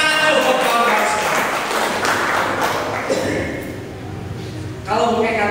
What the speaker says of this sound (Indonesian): Tepuk tangan dulu buat kawan-kawan semua